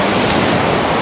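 Rough sea at Lonely Beach churns with continuous broadband surf, a loud, close roar of breaking waves with wind buffeting the microphone and no voices.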